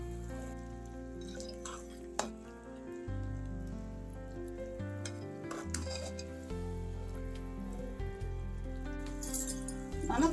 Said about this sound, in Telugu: ఇది బాగా మరుగుతుంది కదా పులుసు